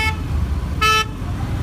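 Heavy road traffic rumbling steadily, broken by two short, bright car horn toots close by.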